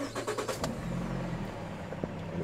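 A 2012 Nissan Rogue engine starts after an oil change, a rapid cranking burst followed by the engine settling into a steady, fairly quiet idle with a small click near the end.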